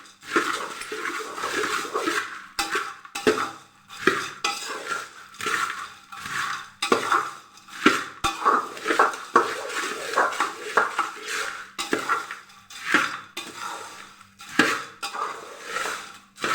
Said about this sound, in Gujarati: બધું સરસ આપણે મિક્સ કરી લઈશું